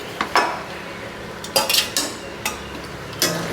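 Pre-fried chicken pieces tumble into a pan and get stirred, producing sharp metallic clinks and scrapes of a spoon against the pan in irregular bursts, with a faint sizzle underneath.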